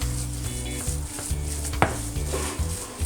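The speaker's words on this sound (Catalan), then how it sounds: "I li donarem voltes una estona i ho fregirem" Flour and meat fry in a pan for croquettes while being stirred, a close, steady sizzle with a sharp scrape of the utensil partway through, heard over a quiet musical background without talk.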